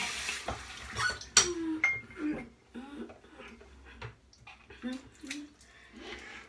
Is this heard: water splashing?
yes